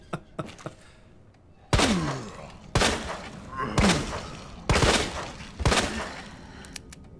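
Gunshots from Resident Evil 2 Remake ring out in five heavy, evenly spaced blasts, each followed by a short decaying tail, over quiet background.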